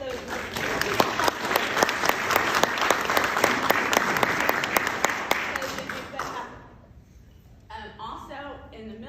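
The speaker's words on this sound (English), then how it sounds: "I would like us to give a clap to those" Church congregation clapping for the volunteers who stream the service, a dense burst of many hands for about six seconds before it fades to a few scattered claps.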